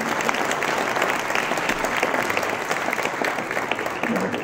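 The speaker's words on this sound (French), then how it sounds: "On peut l'applaudir également." A conference audience applauds in a steady, dense patter of many hands, loud and close throughout, with faint voices mixed underneath.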